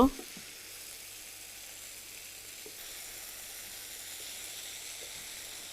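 Potatoes sautéing in a pan for a dry fish curry with eggplant give a soft, steady sizzle throughout, close and fairly quiet, with a light clatter at the start.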